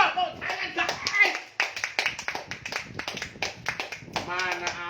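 A group of people, including children, clap their hands in a lively burst of repeated, uneven claps, mixed with voices chattering and calling out throughout.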